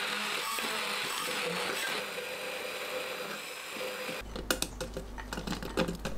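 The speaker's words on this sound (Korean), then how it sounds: "믹서에 쌀밥 듬뿍 1큰술, 새우젓 반큰술, 다진 마늘 20g, 멸치액젓 3큰술, 물 40ml 넣고 갈아줍니다." A kitchen blender grinds cooked rice, salted shrimp, minced garlic, anchovy fish sauce and water into a paste, a steady close whirring that cuts abruptly into a rougher, louder churning near the end.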